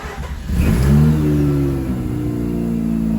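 A Mazda RX8 rotary engine cold-starting in sub-zero weather after a battery disconnect, cranking briefly, then catching into a rising rev and settling to a steady, close idle.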